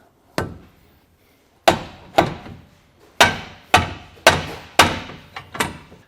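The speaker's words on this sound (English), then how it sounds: "I'm going to try to hit it with a plastic hammer here and see if we can get up past this" A plastic hammer strikes a metal tab on a 2022 Jeep frame while a base plate is fitted, giving about eight sharp, ringing blows at an uneven pace, close and loud, with brief pauses between hits.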